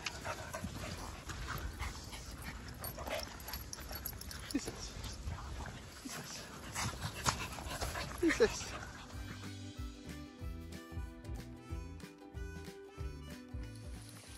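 Seven small dogs on a daily walk whimper and pant close by, with faint yips and someone talking over them, before music takes over in the final seconds.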